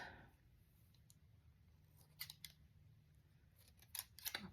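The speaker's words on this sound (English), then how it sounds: "bring in your scissors and just trim off the tails" Soft snips of scissors trimming ribbon tails, a few quick clicks clustered near the end, against a quiet background.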